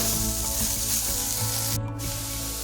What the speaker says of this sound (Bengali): আর একেবারে লো ফ্লেমে পেঁয়াজটাকে আমরা মিনিট ধরে শুকনো কড়ায় কষাতে থাকবো, ওরকম তেল ছাড়াই